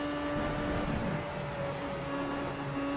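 A race car in the iRacing sim rounds Copse corner at Silverstone, its engine a steady, loud tonal drone with no lift or gear change, heard alone for a few seconds.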